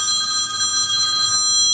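A telephone rings continuously nearby in a kitchen, a bright, steady electronic bell tone sounding loud and alone without pause while food simmers.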